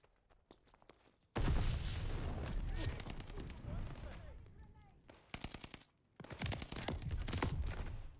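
Automatic gunfire in the Call of Duty: Vanguard video game rattles in loud sustained bursts, with short gaps between volleys and a few quieter single shots and footsteps.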